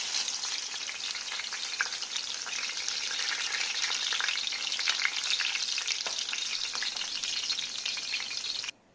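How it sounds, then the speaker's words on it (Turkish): Continuous loud sizzling of zucchini frying in hot olive oil, steady throughout and stopping abruptly at the end. "2 yemek kaşığı kadar zeytinyağı ilave ediyoruz ve artık onu kavurmaya bırakıyoruz."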